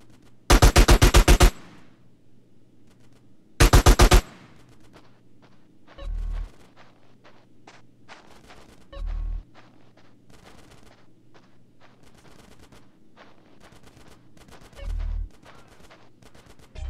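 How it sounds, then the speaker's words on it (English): Gunfire from a shootout in the video game GTA San Andreas: two loud sustained bursts of automatic fire near the start, then scattered single shots and three heavier booming impacts spread through the rest, with no talking. "Get some suppressing fire in there."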